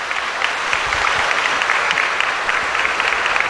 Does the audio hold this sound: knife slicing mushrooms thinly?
no